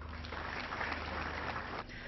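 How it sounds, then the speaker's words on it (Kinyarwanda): Audience applause at a 25th anniversary celebration, a dense burst of clapping from a crowd that holds steady for about two seconds before easing off, fairly distant and reverberant. "Ndabasaba rero yuko mwakongera tukabaha amashyi bose."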